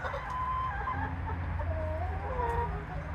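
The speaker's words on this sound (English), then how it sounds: "there's your look at the chickens" Chickens clucking inside a backyard coop, a steady chorus of overlapping clucks and short calls, close and fairly loud, with no talking.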